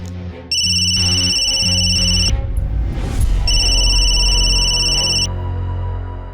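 A telephone rings loudly with repeated electronic trilling bursts, a pause in the middle, then rings again with the same insistent pattern in a home setting.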